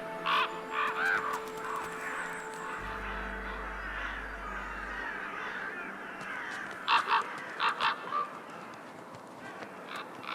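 Crows caw repeatedly in the taiga forest, distant and faint at first, then a closer cluster of harsh calls in quick succession against a quiet outdoor background.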